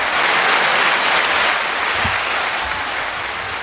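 Dense, steady crowd applause fills the whole stretch at full strength, a broad wash of many hands clapping together that eases off only slightly toward the end, with no talking over it.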